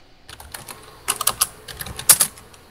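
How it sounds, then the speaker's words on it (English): Rapid, loud clacking on a computer keyboard during a custom zombies game session, starting faint and rising to dense bursts of sharp keystrokes up close. "he's typing very loud though"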